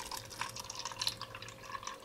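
Water is poured into a cup for a simple siphon experiment, giving a continuous trickling and bubbling splash at close range with no talking.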